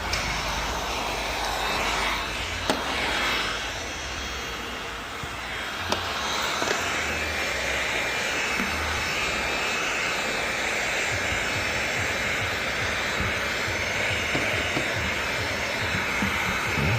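Heat gun blowing hot air to shrink tint film on the rear window of a Ford Mustang convertible, a steady close whooshing roar that holds evenly throughout with no talk.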